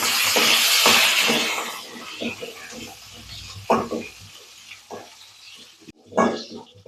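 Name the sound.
small onions and garlic sautéing in a pan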